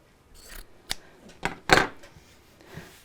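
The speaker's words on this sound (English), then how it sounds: "the first thing I'm going to do is to cut off the selvage because I don't use that" Scissors trim the selvage off a length of fabric for bias binding, with a few crisp, close snips in quick succession, the third the loudest, in a quiet room.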